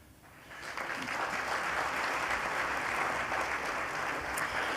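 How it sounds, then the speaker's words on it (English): Applause from a banquet audience at a university homecoming awards dinner, starting quietly and swelling within a second into steady, dense clapping that fills the room and holds evenly to the end. "we could give them a round of applause as well"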